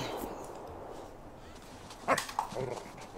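A dog from The Sims 3 video game barks a few times in quick succession near the end, standing out over a low, steady background hum.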